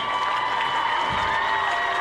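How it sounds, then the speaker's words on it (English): Crowd applause for a high school marching band at a football game, a dense steady wash of clapping and distant cheering filling the stands throughout, loud and continuous. "another round of applause for the marching artisans"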